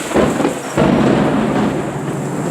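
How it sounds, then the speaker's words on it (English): Thunder from a lightning strike during a severe thunderstorm in the Bronx, New York City, a loud close rumbling roll with a second heavy surge, over steady rain and no talk. "There you go. Lightning strike!"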